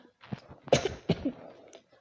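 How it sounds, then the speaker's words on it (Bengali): A few short coughs from one person, close and fairly quiet, with one stronger cough in the middle and no talking around them. "আমার মনে হয় একটু কাশি হয়েছে, ওটা ঠিক হয়ে যাবে"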